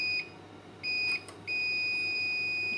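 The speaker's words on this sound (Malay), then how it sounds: "Bunyi buzzer berterusan." APC Back-UPS ES500 uninterruptible power supply with a faulty internal relay, sounding a continuous high-pitched buzzer beep in three bursts, the last one held steadily, faint and close with no talk.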